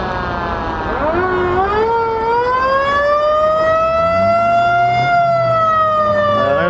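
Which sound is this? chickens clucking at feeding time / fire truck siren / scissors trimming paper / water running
fire truck siren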